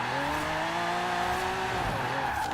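Bentley 8-Litre with a drift build in Forza Horizon 4, its engine droning steadily and loudly while tires squeal through a sustained slide.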